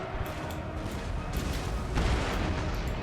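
Napoleonic artillery guns fire in the Darthmod version of Napoleon: Total War, a dense rolling battle din of overlapping booms and crackling shots that swells louder toward the end.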